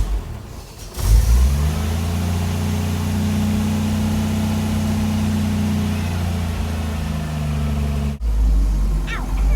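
A 1972 Toyota FJ40 with a newly installed Holley Sniper 2300 EFI cranks briefly, fires up and settles into a loud, steady idle close by, then cuts off with a sharp thump before a short burst of noise at the end.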